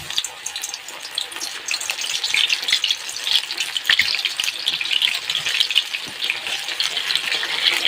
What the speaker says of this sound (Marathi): आपण जो सोयाबीनला जो मसाला लावून ठेवला आहे ते सोयाबीन आता तळून घ्यायचे